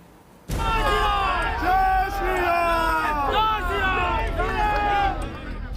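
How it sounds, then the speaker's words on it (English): A political crowd at a Netaji event chanting Jai Shri Ram and heckling: loud massed voices burst in abruptly, then continue as rhythmic, overlapping chants and shouts. "Jai Shri Ram chants and heckling."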